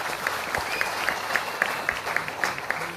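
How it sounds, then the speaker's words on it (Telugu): Audience applause at a business seminar: steady clapping from a moderate crowd, a bit distant, with a rhythmic sharp accent repeating about every quarter second. "ఒకసారి గట్టిగా బిగ్ రౌండ్ ఆఫ్ అప్లాజ్ మీకు"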